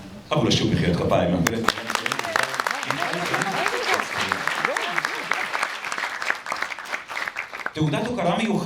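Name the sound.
applause at an award ceremony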